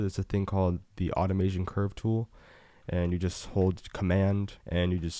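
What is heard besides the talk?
No distinct noise like a dog, phone or traffic.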